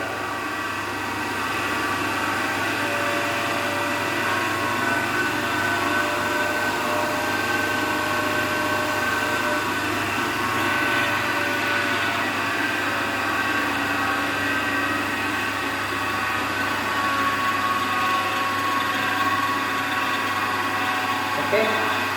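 An electric motor hums at a steady 1350 rpm on a bench rig for a single-phase transformer hysteresis and eddy current loss test, a constant even drone filling the whole stretch without pause.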